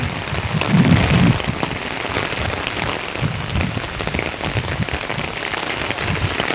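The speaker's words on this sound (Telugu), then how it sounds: "సో వర్షం పడుతోంది కదా" Rain falls steadily outside an apartment building, a dense close patter on surfaces with scattered louder drops and no voices.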